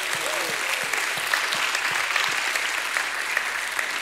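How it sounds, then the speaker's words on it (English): A church congregation claps hands in praise during a sermon, an even, continuous wash of many hands clapping at moderate distance, with a faint voice rising briefly near the start. "Give God a hand clap and a shout of praise."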